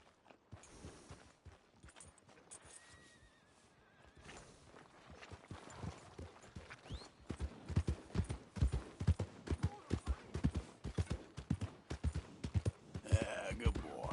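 Horse hooves clip-clop in Red Dead Redemption 2, a steady walking rhythm of hoofbeats that starts soft and grows louder and busier as the horse comes closer.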